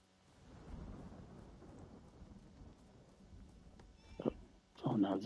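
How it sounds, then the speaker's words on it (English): Cannon fire and explosions in a video game: a low rumbling roll builds, then two louder booming bursts near the end, one sharp and one sustained. "Nope, that's not thunder. That is cannon fire. Those are explosions."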